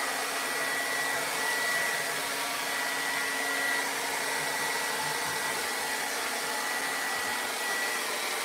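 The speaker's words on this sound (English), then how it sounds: "I'm gonna use this hair dryer for just 30 seconds too long" A hair dryer runs steadily and close for several seconds, a continuous even whir with broadband airflow hiss, used while refinishing an old table with a crackle paint effect; no one speaks.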